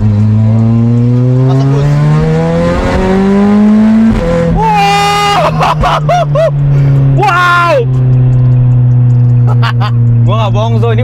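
A VW Scirocco R with all-wheel drive and a roughly 800-horsepower engine accelerates hard at half throttle, engine drone climbing through gear changes with sharp whooshing shifts and pops, loud and close while people talk and exclaim inside the car.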